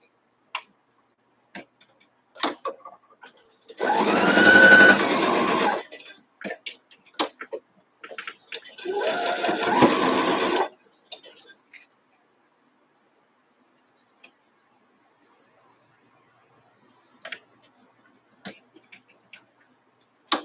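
A sewing machine with a quarter-inch foot stitches a quilt block in two bursts of steady mechanical whirring, each a few seconds long, separated by scattered light clicks and handling ticks.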